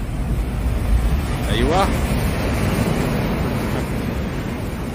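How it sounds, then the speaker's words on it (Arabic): Rough surf and gusting wind on the eastern coast of the UAE, stirred up by Cyclone Biparjoy, give a constant loud roar of waves against heavy wind buffeting, with someone briefly speaking over it. "ما يدخلون البحر بسبب هيجانه. نعم، بسبب هيجانه واضطرابه."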